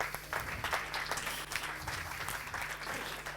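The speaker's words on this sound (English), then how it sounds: "please giving Daimien Patterson a big round of applause" A standing audience applauds Daimien Patterson, a steady wash of many hands clapping at moderate, slightly distant volume for the whole stretch, with a low hum underneath.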